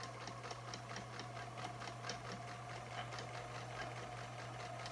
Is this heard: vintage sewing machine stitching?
yes